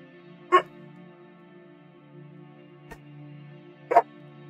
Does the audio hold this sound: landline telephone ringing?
no